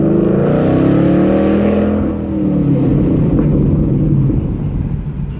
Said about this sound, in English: Let me go ahead and do a quick acceleration for you so you can hear how it sounds.